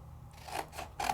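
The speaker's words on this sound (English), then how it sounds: "the first thing I'm gonna do is cut a piece of paper" Scissors cut a piece of white paper for a card, giving two or three crisp snipping swishes in quick succession, close and clear with no talking.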